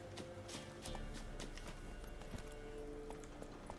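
Horse hooves gallop in The Witcher 3 video game, a faint, steady clip-clop drumming beneath a low bed of game ambience.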